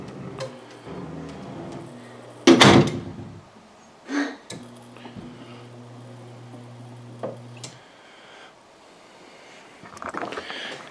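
An attic door worked by a smart home door closer opens with a sharp clunk, then a sustained mechanical motor hum with a few clicks and thuds around it, close and moderately loud.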